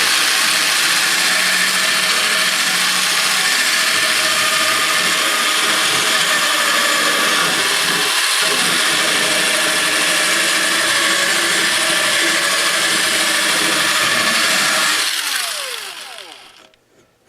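A loud, steady whine of a power drill sharpening a Craftsman lawn mower blade, grinding on metal continuously for about fifteen seconds before winding down and stopping.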